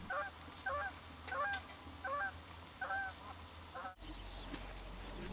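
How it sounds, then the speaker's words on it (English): Geese honk repeatedly in short, evenly spaced bursts over a low wind rumble on an Alaskan river delta during a shorebird migration festival. The calls stop just before four seconds, and only steady outdoor noise follows. "I see a few geese, but thousands of birds?"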